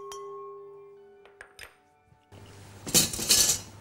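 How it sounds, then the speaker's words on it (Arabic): Sugar and starch tipped into a bowl for a peach cobbler layer: a few faint taps and clinks first, then a loud, grainy rush of granules pouring against the bowl for about a second and a half, with no talk. "هنحط السكر والنشا مع بعض"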